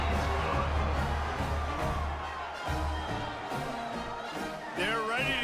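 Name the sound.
crowd cheering after a football touchdown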